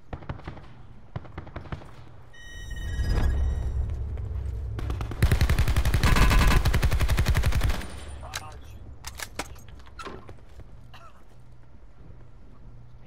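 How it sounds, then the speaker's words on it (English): Bursts of automatic gunfire in the Call of Duty Black Ops 4 battle royale mode, a sustained loud volley in the middle with scattered shots before and after. "He was shooting at somebody though."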